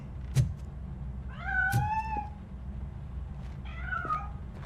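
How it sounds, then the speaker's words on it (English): A cat in the Robocop: Rogue City video game gives two clear, rising meows a couple of seconds apart over a low steady background hum. "That cat must be hiding inside."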